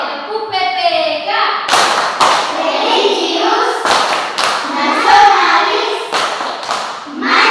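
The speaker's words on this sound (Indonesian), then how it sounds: "Oke, tepuk PPK." A class of children stands and performs a rhythmic clap-and-chant routine during a Catholic religion lesson in Merauke, with sharp group claps and thumps punctuating loud chanted words in a lively classroom.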